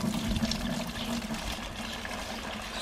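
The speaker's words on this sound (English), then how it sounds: "I want to sieve it out one more time. Much finer mesh" Fine clay being shaken through a finer-mesh sieve gives a steady, soft, grainy rushing hiss, close and continuous for a few seconds.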